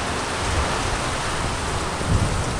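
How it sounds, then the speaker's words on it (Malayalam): Heavy, steady rain pours down in a dense wash, with a low roll of thunder swelling briefly near the end. "മഴ മാത്രമല്ല, ഇടിയും കൂടെ ഉണ്ട്"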